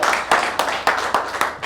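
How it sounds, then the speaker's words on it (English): A live audience at a public speaking training event in Hyderabad claps to welcome a speaker onto the stage, giving steady, rhythmic clapping with strong regular beats over a dense bed of applause. "Everyone, with a big round of applause, let's welcome Ravi."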